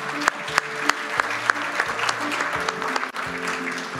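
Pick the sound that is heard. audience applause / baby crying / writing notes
audience applause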